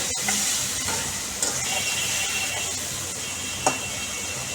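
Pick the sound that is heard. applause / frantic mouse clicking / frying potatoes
frying potatoes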